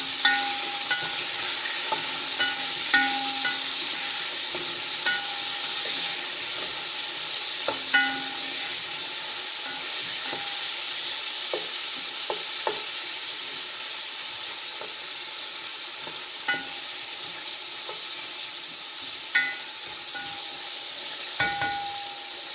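Tomatoes frying in a pan for mandi, a constant loud hiss of sizzling oil with occasional light clicks of stirring throughout, close and steady, with no talking.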